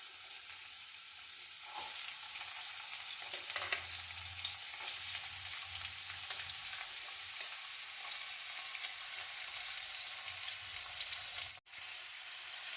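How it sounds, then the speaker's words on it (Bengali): Chopped onions frying in hot mustard oil, a continuous close sizzle with light stirring noises and a brief break near the end, no speech. "তেলটা গরম হয়ে গেছে এবার আমি এর মধ্যে পেঁয়াজ কুচোগুলো ছেড়ে দেবো"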